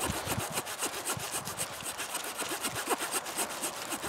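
Wood is cut with the small saw blade of a Wenger New Ranger 55 pocket knife, giving a steady, rapid rasping back-and-forth rhythm of close strokes, continuous and fairly quiet.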